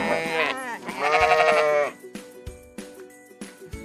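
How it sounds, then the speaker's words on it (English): A sheep bleats twice in loud, wavering cries close by, then soft clicks and light thumps follow in quieter surroundings. "This is a sheep."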